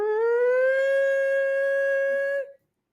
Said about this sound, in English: On the first Monday of every month, every siren in the city starts going off.